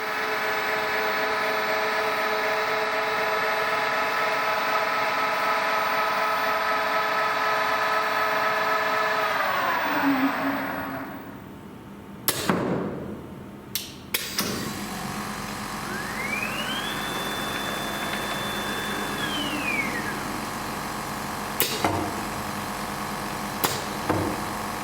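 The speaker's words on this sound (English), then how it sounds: "the machine now will move into position to do its first laydown" A recombiner machine moves into position for its first laydown: a steady mechanical engine drone with whining tones that drops away partway through, then scattered clunks, knocks and a rising-and-falling whine.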